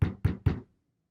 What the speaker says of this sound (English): The big bad wolf knocks on the door.